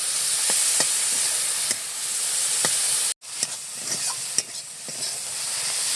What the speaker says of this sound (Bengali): সাদা চিংড়ি কিনেছিলাম, একটু লবণ দিয়ে দিচ্ছি, একটু হলুদ দিয়ে চিংড়ি মাছটাকে হালকা একটু ভেজে নেব।